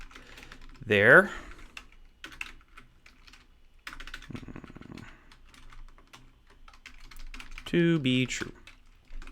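Rapid clicking keystrokes on a computer keyboard, quiet and close, run in bursts between two short stretches of talking.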